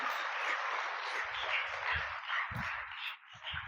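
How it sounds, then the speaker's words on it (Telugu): A church congregation claps loudly in praise at a Sunday service, a dense, sustained wash of many hands with occasional thumping beats beneath it. "గట్టిగా చప్పట్లు కొట్టి ఆ దేవదేవుడిని స్తుతించుదాం"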